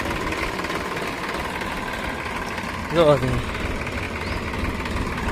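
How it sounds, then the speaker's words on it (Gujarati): A farm tractor with a harrow hitched behind idles steadily at mid-range, a continuous engine rumble under a brief spoken word near the end. "હવે જવાનું ટ્રેક્ટર લઈને ટ્રેક્ટર છે ચાલુ જુઓ"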